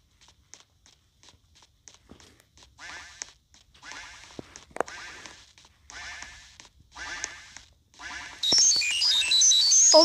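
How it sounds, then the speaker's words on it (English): Repeated raspy duck quacks in short bursts amid footstep-like crunching, followed by a louder, busier burst of game sounds at the end. "That's what happens if you get caught by the duck."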